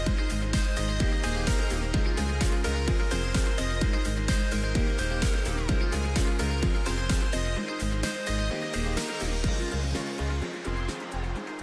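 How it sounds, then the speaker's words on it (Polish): Loud party music with a steady pounding beat fills the background of an afterparty following a FutureNet convention event in Cracow, continuous and dense with no talk over it. "Jak słyszycie, w tle trwa afterparty po dzisiejszej imprezie."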